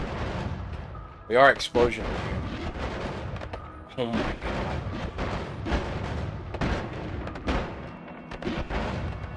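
Explosive projectile spells bursting in the Noita video game, a pair of loud booming blasts early on followed by scattered crackling impacts and game effects, with a voice exclaiming over the chaos.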